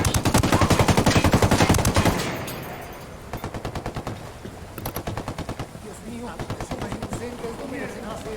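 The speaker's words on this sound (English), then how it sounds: "Opening fire on these fuckers." Automatic gunfire in Ghost Recon, a loud rapid burst of machine-gun fire for about two seconds, followed by quieter, more distant rattling bursts that start and stop.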